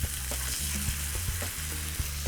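Pork chops and pork fillet fry together in a hot pan with a splash of olive oil, a continuous loud sizzle broken by a few short utensil knocks over a low steady hum.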